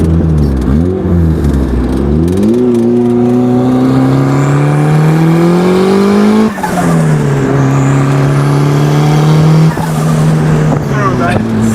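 Turbocharged Honda Civic with a short 8-inch pipe, running loud and close with revs sweeping up and down and a brief break mid-run, its raspy note dominating throughout.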